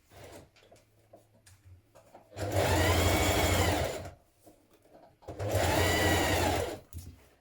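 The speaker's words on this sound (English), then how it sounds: "we're going to stitch from the underarm down to the bottom of the hem" A sewing machine stitches a dress side seam from underarm to hem in two loud, steady bursts of rapid whirring, each lasting a couple of seconds, separated by quiet pauses with faint handling sounds.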